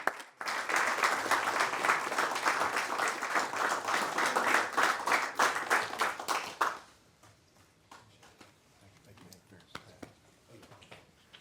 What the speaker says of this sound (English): Let's have another round of applause for this wonderful group.